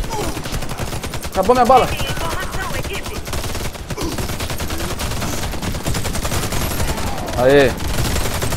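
Gunfire in Warface zombie mode, a dense run of shots with brief louder bursts, while players talk over the game action.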